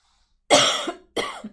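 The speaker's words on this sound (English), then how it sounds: "There's the cough. It shows up when I start to talk." Two sharp coughs close to the microphone, the first longer and harsher, the second shorter after a brief pause, with silence around them.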